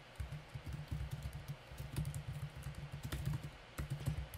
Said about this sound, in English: Just type in a message.